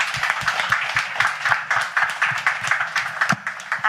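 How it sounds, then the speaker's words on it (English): Press meet audience giving the cast and crew a round of applause, dense rapid clapping from many hands, steady and fairly loud throughout. "I would like to give the cast and the crew who are sitting around here an enormous round of applause."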